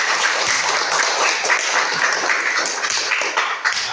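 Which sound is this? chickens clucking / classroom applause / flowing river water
classroom applause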